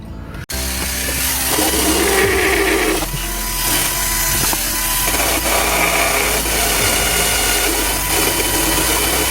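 A small power grinder shapes a part for a GoPro mount, starting abruptly and running loud and steady at close range with slight shifts in pitch as it bears on the workpiece, no talking.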